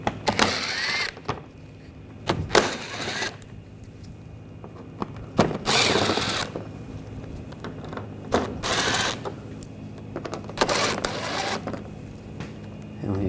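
Screws being backed out with a T20 socket on a ratchet or driver while removing a 2014-2020 Nissan Rogue front bumper impact absorber; short bursts of whirring and clicking repeat every couple of seconds, close by.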